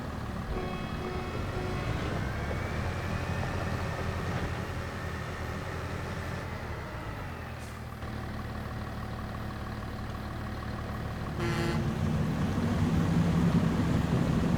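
A tractor engine in Farming Simulator 25 drones steadily at a low, even idle, with a brief dip in pitch and a slight rise in load near the end, heard on its own without talk.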